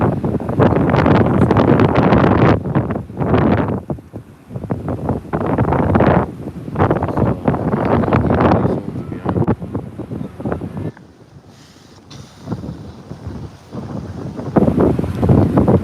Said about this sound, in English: The weather is nice. It's windy. I like the breeze